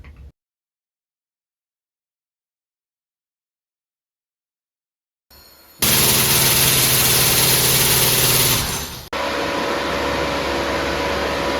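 A loud, steady mechanical roar of a compressed-air engine starts abruptly after several seconds of silence, with a hissing rush of air, briefly dips, then continues running.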